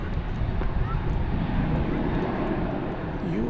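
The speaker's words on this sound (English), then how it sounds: "I think that is American Flight 488 going to Phoenix. It's an Airbus A321" An Airbus A321 airliner, American flight to Phoenix, roars past at DFW Airport with a broad, steady jet rumble and some wind buffeting on the microphone, no speech heard.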